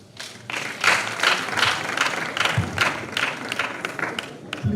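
Audience applause at a business pitch event, a steady wash of many hands clapping that swells and fades across the room, moderately loud with no speech over it.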